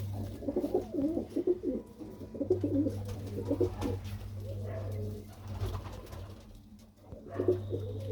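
Pigeons cooing nearby, low throaty calls repeating in bursts over a steady background hum.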